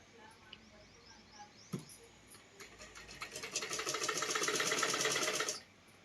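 A sewing machine stitching a pair of pants runs in a steady, fast whirring rhythm for a few seconds, building up after a couple of faint clicks and then stopping abruptly, fairly close with no talk.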